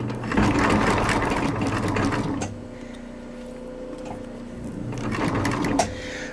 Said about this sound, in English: we sew with a straight up and down stitch